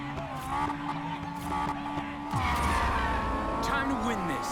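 Race cars in Need for Speed Payback roar and rev continuously, an engine note dropping sharply mid-clip as a gear change or launch hits, with tire squeal and sweeping pitch shifts over a steady loud game mix.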